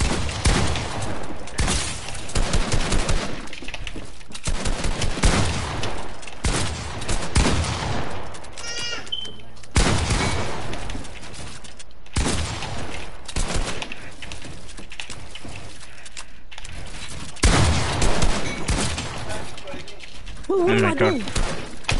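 Gunfire in the video game Fortnite: rapid bursts of loud, sharp shots in clusters separated by brief pauses, with game sound effects and a voice talking in places.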